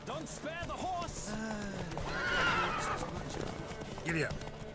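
In The Witcher 3 video game, horses race at a gallop with rapid hoofbeats and several loud neighs and whinnies close by. Voices talk over the hooves.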